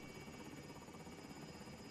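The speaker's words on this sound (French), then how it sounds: "Hélico en position" Steady rotor drone of a helicopter in the Call of Duty Warzone video game, a constant broadband whir with buzzing overtones that holds at moderate, even loudness throughout, with no talk over it.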